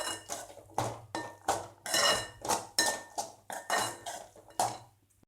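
A metal spoon stirs and scrapes sundal of chickpeas with carrot and raw mango in a pan, giving about a dozen rhythmic clinking strokes, close and fairly quiet, with no talking.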